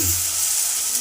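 Ginger garlic paste sizzling in a hot pan while cooking mutton leg nihari, a steady bright hiss with no talking.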